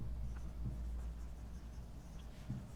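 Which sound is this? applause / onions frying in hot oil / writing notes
writing notes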